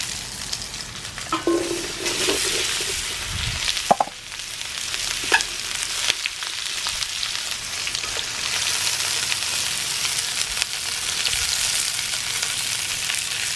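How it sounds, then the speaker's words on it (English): Potatoes frying in a pan over an open fire outdoors, giving a loud, steady sizzle throughout with a few brief clanks of stirring and no talking. "Now I'm going to go ahead and add our potatoes."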